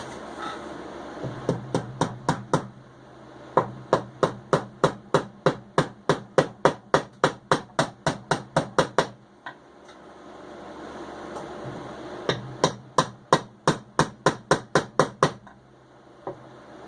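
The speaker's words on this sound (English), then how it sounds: "So, gotta grab a hammer." A hammer strikes repeatedly while someone works on a fragile bone piece with a strong handle, sharp close blows landing in fast bursts of about a dozen hits, separated by short pauses.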